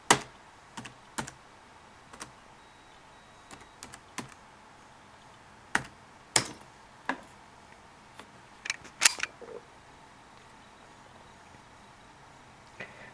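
Password typed on a Compaq Presario A900 laptop keyboard: sparse, irregular key clicks, some single and some in quick pairs, crisp and close against a quiet background.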